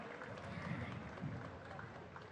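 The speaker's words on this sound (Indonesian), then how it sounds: "boleh sekali lagi kita berikan tepuk tangan yang paling meriah untuk peserta kirab budaya pada pagi hari ini" Crowd applause for cultural parade participants at a flag procession, a steady, fairly faint wash of clapping with a voice speaking over it throughout.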